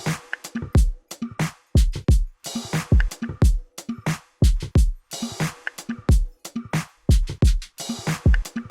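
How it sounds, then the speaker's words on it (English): A looping drum pattern of punchy kicks, sharp claps and ticking hi-hats repeats in a steady groove, loud and close with no voices. "let's just listen to all of our drums together."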